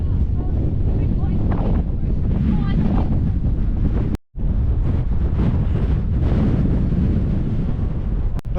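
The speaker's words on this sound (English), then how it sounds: "As you can probably hear, it's windy down here" Strong wind gusts roar across the microphone on top of Win Hill in the Peak District, a constant loud buffeting rumble broken by a brief dropout midway.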